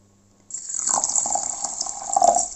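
Water is poured into a homemade mustard preparation of seeds and cider, starting abruptly after a brief quiet moment, then a steady close-up splashing and gurgling fill that runs to the end.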